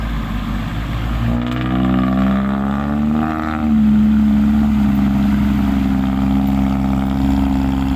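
A tractor engine revs and labours with a loud, low droning tone that rises in pitch and then holds steady and strong, heard close and continuous with no talking.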